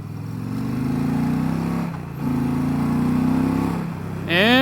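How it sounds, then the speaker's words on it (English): Dodge Challenger engine idling and running steadily up close, a continuous low drone with a brief dip midway and a higher whine at the end. "Motor's running really smooth."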